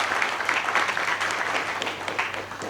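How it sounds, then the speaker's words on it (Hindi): A seminar crowd breaks into loud, sustained applause for a speaker: many hands clapping in a continuous, busy roar that holds steady throughout. "एक बार गगन सर के लिए जोरदार तालियां हो जाए।"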